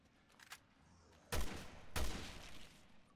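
Two loud gunshots from Resident Evil Revelations 2 crack sharply about half a second apart, each with a short decaying tail, after quiet ambience and a faint earlier pop.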